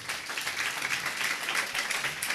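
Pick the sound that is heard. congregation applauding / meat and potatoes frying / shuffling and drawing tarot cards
congregation applauding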